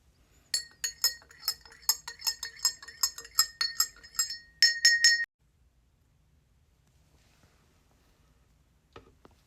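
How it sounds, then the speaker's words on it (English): A tiny spoon stirs mica powder in a glass jar, making a quick series of bright, ringing clinks for about five seconds, close up, then near silence with one faint tap at the end. "Add some to our tiny spoon and stir again."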